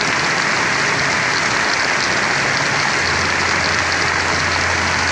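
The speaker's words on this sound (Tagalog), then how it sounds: "saka lumakas ang ulan" Steady, loud downpour of heavy rain hissing continuously, with a low forklift engine hum joining partway through.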